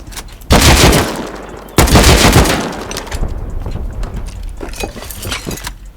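AK rifle fire in the video game Rust: two loud, close bursts of gunshots, each decaying into echo, followed by fainter scattered shots.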